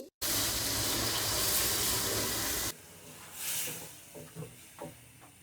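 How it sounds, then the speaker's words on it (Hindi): Water poured into a hot pan of chicken white karahi bursts into a loud, dense hiss for a couple of seconds, then drops to a soft bubbling simmer with a few light clinks. "अब हम इसमें डालेंगे आधा कप के करीब पानी।"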